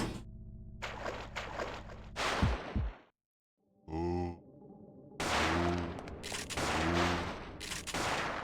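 Grenade launcher firing in the video game Parasite Eve II, with loud booming blasts and bursts of gunfire, a short silent gap, and creature grunts among the shots.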